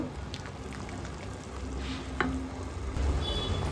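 Sugar syrup with cardamom bubbling on a stove over a low flame, a steady soft simmering hiss with small pops, close and moderately quiet, with no voices.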